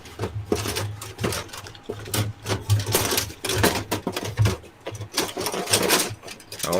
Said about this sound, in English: I'm going to have to make a noise and rattle in the box while I find another sprue.